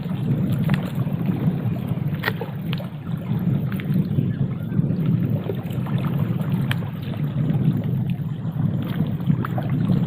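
Strong wind rushes over a fishing pond while boating in heavy rain, a steady close roar of gusting air with faint water gurgles and no talk.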